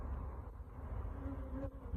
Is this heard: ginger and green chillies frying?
no